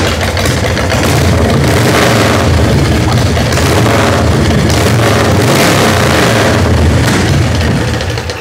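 A 2004 Exotix motorcycle engine idles loud and close with a deep, steady, unbroken rumble lasting the whole stretch.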